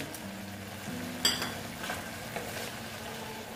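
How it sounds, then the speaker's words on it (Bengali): Lentil dumplings (bori) being stirred into a vegetarian Malabar spinach (pui shak) curry with stalks, potato and pumpkin in a pan; a soft scraping stir with light sizzling and a brief utensil clink near the middle, no talking. "দিয়ে আবার আমি এটাকে একটু মিক্স করে নিচ্ছি।"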